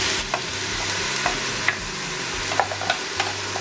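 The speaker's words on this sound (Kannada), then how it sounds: "ಈಗ ಎಣ್ಣೆ ಕಾಯ್ದಿದೆ, ಮಸಾಲೆ ಸೇರಿಸೋಣ" Masala spices sizzle steadily in a pan of heated oil, a continuous close frying hiss broken by soft scraping stirs from a spoon at irregular intervals, with no voices.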